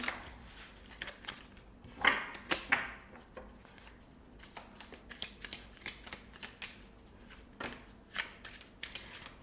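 Tarot cards being shuffled close up: repeated crisp, rapid flutters and soft slaps in uneven bursts, with no talking.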